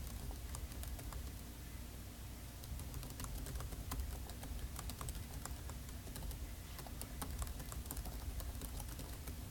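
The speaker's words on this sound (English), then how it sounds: "Oh, why am I typing?" Rapid, faint clicking of computer keys being typed on, a steady patter of keystrokes over quiet background hiss.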